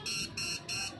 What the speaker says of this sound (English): buzzer will be activated, and you can hear the sound